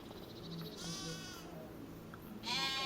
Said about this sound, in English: And he's got sheep.